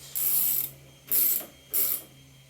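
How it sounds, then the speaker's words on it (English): A vise being locked down on jewelry wire, three quick bursts of bright ratcheting clicks with short pauses between, close and fairly loud, with no talk. "Lock that vise down."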